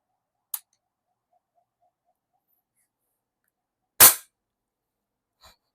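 PCP air rifle, a Phoenix PCP 4 compact build fitted with a 3D-printed silencer, firing two sharp isolated cracks, a small one early and a louder one later, followed by a faint click in near silence.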